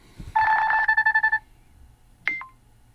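A Nothing Phone 3 ringtone sounds up close as a short bright electronic tone pattern with a quick pulsing rhythm, followed a moment later by a single rising chirp.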